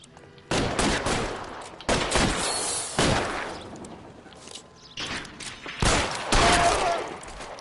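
Gunfire from the 1940s-era game L.A. Noire comes in several loud, close bursts of rapid shots, separated by short quieter gaps with faint background clatter.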